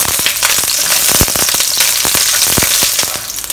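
Eight peeled garlic cloves fry in a pan on medium heat, giving a loud, steady sizzle with sharp crackles and pops scattered throughout.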